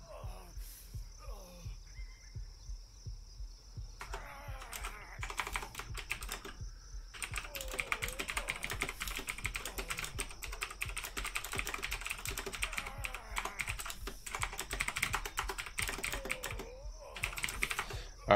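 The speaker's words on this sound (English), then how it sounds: "I'm typing in the chat right now" Rapid typing on a computer keyboard, with dense clusters of keystroke clicks that come in bursts, pause briefly, then continue steadily and close up.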